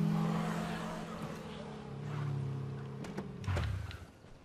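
A fast car races along in the zombie game State of Decay, its engine droning steadily and rising and falling in pitch, with a clatter near the end, all beneath someone speaking German.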